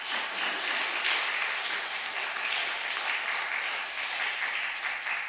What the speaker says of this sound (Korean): 박수 한번 드립시다